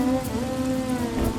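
Steady rain pours over a farm in a 2D animated scene, a dense continuous hiss of falling drops with a low rumble beneath, constant and fairly loud throughout with no voices.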